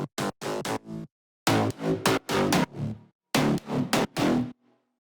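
A fat, hard synth bass for a future house track punches out short, buzzy staccato notes in clipped rhythmic groups separated by silent gaps, loud and alone.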